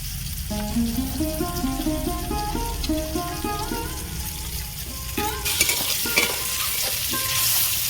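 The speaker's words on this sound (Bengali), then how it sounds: "টমেটোগুলো ভাজা হয়ে গেছে তুলে নেবো" Tomatoes frying in hot oil in a pan for a fish curry with raw tomatoes, a steady close sizzle over the whole stretch with background music and occasional scraping stirs.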